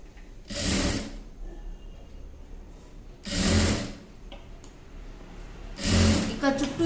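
A sewing machine stitches the folded edge of a frock seam in three loud, steady bursts of about a second each, with quieter pauses between them.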